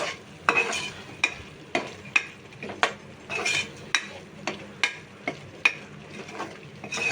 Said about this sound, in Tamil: போட்டு இதை போட்டுட்டு நல்லா ஒரு தடவை கிளறி விட்டுண்டுடலாம்.